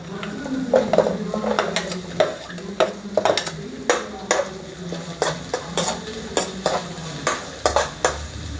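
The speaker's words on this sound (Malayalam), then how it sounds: "നമുക്കിനി സവാള ഇട്ട് കൊടുക്കാം" Sliced onion is stir-fried in a pan for fried rice, with sharp spatula scrapes and metallic clinks against the pan repeating every half second or so over a soft, constant sizzle.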